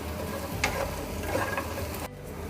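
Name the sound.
stirring bread upma with vegetables in a pan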